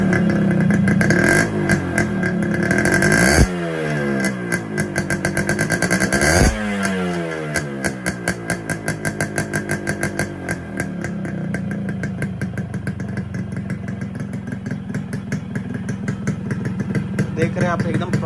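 A Yamaha RX100 motorcycle with a modified muffler, loud and close, idling with a pulsing exhaust beat and blipped hard twice so the revs soar and fall, then settling into a fast, popping, crackling burble.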